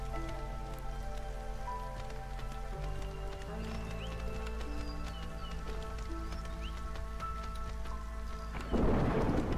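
A storm in the video game Against the Storm, with steady rain hiss and a low rumble under a sustained musical drone, ending in a louder burst of rain.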